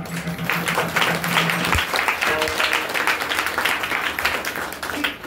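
A temple crowd at a Gokulashtami gathering in the Vitthal Rukmini temple at Wadapuri breaks into sustained, dense applause that holds steady for several seconds before tapering, loud and close.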